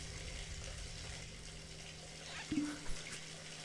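Rosewater bath milk pours into a bath in the video game The Devil in Me: a steady, fairly loud wash of running liquid, ending in a couple of low splashing gurgles.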